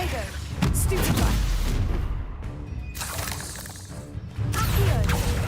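Spell casting in Hogwarts Legacy on hard mode: a rapid run of loud magical blasts, crackles and crashing bursts, one after another, with a sharp surge near the end.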